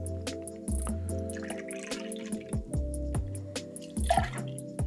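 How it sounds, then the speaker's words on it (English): Orange juice poured into a measure for a cognac-based champagne cocktail, close trickling and dripping with small splashes and a few clinks, faint and without talk. "We're gonna start with our first ingredients, which is orange juice."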